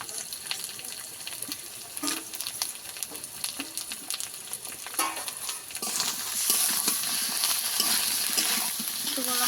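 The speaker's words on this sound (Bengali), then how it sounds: "শুকনো লঙ্কা বাটা দিয়ে ভালো করে কষিয়ে নেব।" Cauliflower frying with dried chili paste in a pan, a steady sizzle under repeated stirring scrapes and taps that grows louder and denser toward the end.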